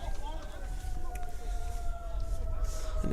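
Emergency sirens wailing in the distance near a community college baseball game, steady thin tones running through the whole stretch over a low rumble of wind and background noise, with faint voices around.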